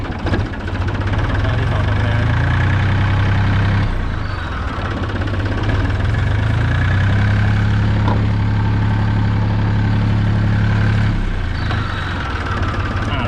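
An ISEKI TA270 27-horsepower tractor engine runs steadily in low gear, a loud, close, continuous diesel chug with a deep drone that dips briefly around the middle and then resumes.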